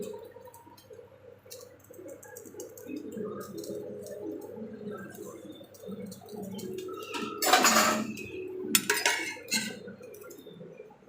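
A metal wok is set on a stove in a home kitchen while cooking Bengali dishes; two sharp clattering bursts of pan and utensil clinks stand out over a low, steady kitchen background.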